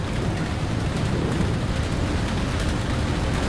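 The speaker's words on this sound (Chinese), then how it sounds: "外面下雨啊" Rain falls steadily outside, a dense, even hiss of rainfall with a low rumble beneath, loud and continuous with no voices.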